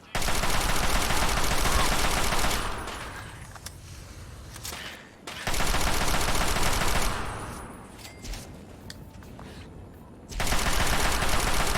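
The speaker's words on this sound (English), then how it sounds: "There's my assault rifle" Assault rifle gunfire in Fallout 3, loud rapid automatic bursts in three long volleys separated by quieter gaps.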